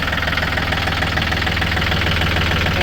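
A used Yanmar 39 hp tractor engine idles steadily nearby, a continuous rough diesel knock with a throbbing low pulse and no talking over it.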